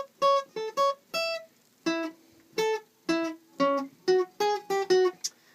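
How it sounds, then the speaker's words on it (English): Guitar picks out the Super Mario Brothers theme as a short run of about a dozen clear, bright single notes in a bouncy, stop-start rhythm, played close and alone with no talking. "we did Super Mario Brothers, so it'll sound like this."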